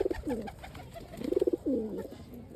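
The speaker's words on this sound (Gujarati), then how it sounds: "આ નવું કબૂતર આપણે લાવ્યા હતા તે છે." A newly acquired pigeon coos in several close, soft rolling phrases, with brief pauses between calls and a faint background hum.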